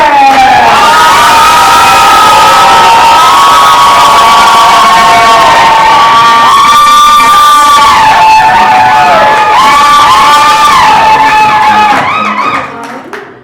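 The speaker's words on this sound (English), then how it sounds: "Actually, let's get a good clap." Comedy club audience cheering and whooping as a comedian takes the stage, loud, sustained crowd noise with high shouts layered over it, cutting off abruptly near the end.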